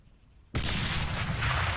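In Arma 3, a satchel charge blows apart a metal wall: a sudden loud blast cuts in after a quiet moment and rolls on as a sustained, broad roar of debris.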